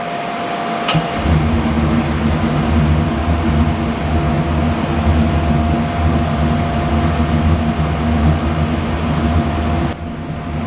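An RV furnace on a bench test fires up and runs with a steady, loud blower roar and a low mechanical hum, holding constant for about ten seconds before dropping off at the end.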